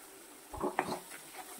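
Brinjal stuffing seasoned with coriander powder and Maggi masala is stirred and sautéed in a pan, giving a brief, soft clatter of a spoon scraping and knocking against the pan, with quiet sizzling around it.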